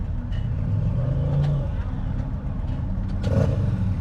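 A 2025 Indian Chieftain Power Plus motorcycle pulls hard in fourth gear with a steady, close engine drone and wind rush. A rider's voice comes through faintly at moments.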